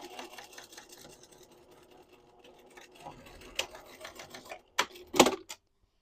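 Domestic sewing machine stitching back and forth on a knit tote bag seam, a steady mechanical whir broken by short pauses and a few louder bursts near the end, close and alone with no talk.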